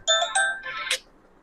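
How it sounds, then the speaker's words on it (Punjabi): A short electronic ringtone plays a quick bright melody of a few tones, then stops, leaving near silence. "ਔਰ ਇਹ ਫੋਨ ਆ ਗਿਆ ਉਹਨਾਂ ਦਾ"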